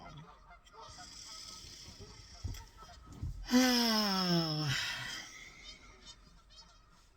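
Geese honk loudly nearby in a sudden burst of harsh, overlapping calls lasting about a second, set against quieter outdoor ambience, with a person's brief exclamation just before.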